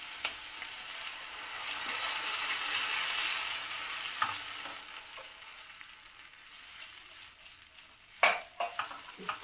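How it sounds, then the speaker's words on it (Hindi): A spoon stirs milk in a cooking pan, a soft continuous scraping and faint sizzle up close, ending with a few sharper metallic clinks against the pan. "स्टर करते रहिए, चलाते रहिए अगर मिल्क को।"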